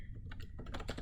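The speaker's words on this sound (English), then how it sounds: "let me go ahead and type in the statement" Quick keystrokes on a computer keyboard while writing code, a short burst of several close, crisp taps in an uneven rhythm.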